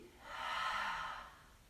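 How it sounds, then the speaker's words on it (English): A single long, soft exhale during a yoga breathing exercise, a breathy whoosh that swells and fades over about a second, quiet and close. "Long breaths in through the nose, out through the mouth, really empty."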